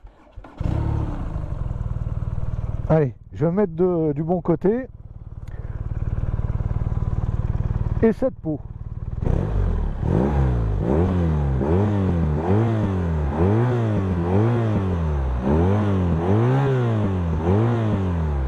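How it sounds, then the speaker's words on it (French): A 2021 BMW R nineT 1200 with a twin-outlet Akrapovic exhaust, idling loud and close, then blipped repeatedly in rhythmic revs that rise and fall, with brief speech early on. "C'est un pot Akrapovic avec 2 sorties. Et on va l'écouter."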